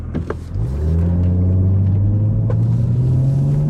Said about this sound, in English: we're gonna see and be able to hear how exactly a rolling anti-lag sounds